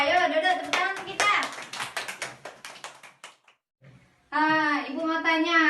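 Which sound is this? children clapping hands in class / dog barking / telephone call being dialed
children clapping hands in class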